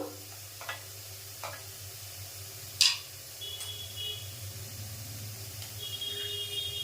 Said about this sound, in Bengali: পেঁয়াজটা বেশ ভাজা হলে বন্ধু